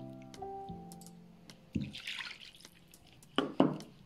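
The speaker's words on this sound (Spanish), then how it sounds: "Vamos a utilizar nuestra agua." Water from a measuring cup is poured into flour for shrimp empanada dough, heard as a few short splashy pours and drips, close and fairly clear, with no talk.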